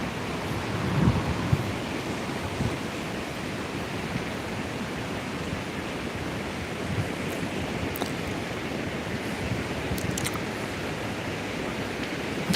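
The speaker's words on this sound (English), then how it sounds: "Just watching the waves roll in." Ocean waves rolling in as a steady, broadband wash of surf that continues without a break, with no voices.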